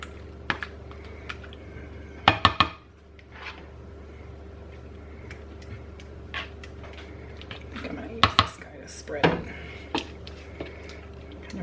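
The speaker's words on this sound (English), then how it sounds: "Break that meat down a little more." Cooked meat for a homemade lasagna is broken down with a utensil in a Pampered Chef stoneware 9x13 dish, with scattered clinks and scrapes and two bursts of sharper clatter against a low background hum.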